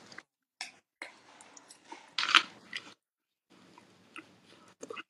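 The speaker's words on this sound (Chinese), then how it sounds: "那我来尝一下这个柿子的品格" Someone bites into and chews a crisp raw persimmon up close, giving faint, crunchy, intermittent bites with quiet pauses and one louder crunch.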